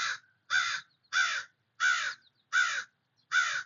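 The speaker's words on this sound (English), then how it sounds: "It's a crow." A crow caws six times overhead in an even, steady rhythm, each harsh caw loud and close with short silent gaps between, and no other sound around it.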